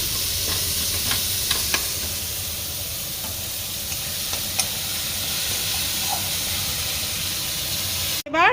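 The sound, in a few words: frying coconut in a pan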